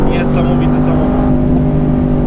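Mercedes-AMG GT with a 557 hp engine revs loudly up close, a steady throaty drone carrying through the short burst; the exhaust pop is not clearly separable in the sound.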